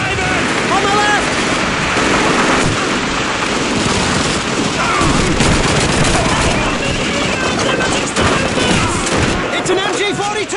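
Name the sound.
MG-42 machine gun firing in Call of Duty 2 video game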